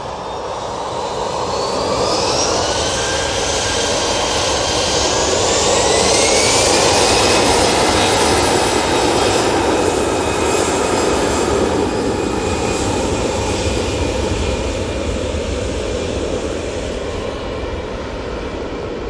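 An aircraft nicknamed Mighty Orange departs Manchester Airport, its jet engines spooling up into a loud roar with a rising whine that holds steady as it powers away.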